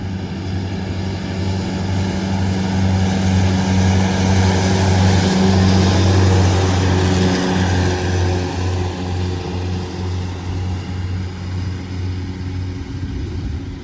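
A loud, steady engine drone of farm machinery running continuously in a hay field, with a constant low hum and broad rumbling noise throughout, no voices.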